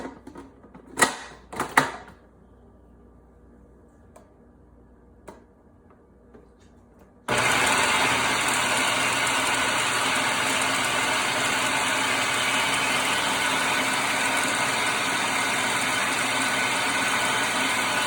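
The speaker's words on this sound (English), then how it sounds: "I'm pulsing the cottage cheese" A food processor pulsing cottage cheese starts abruptly partway through and runs as a steady, loud whirring drone to the end, following a few quiet clicks and knocks in a kitchen.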